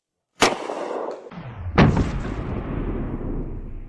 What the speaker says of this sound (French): Et enfin, notre grosse chaîne rechargée professionnellement. Tire dans 3, 2, 1.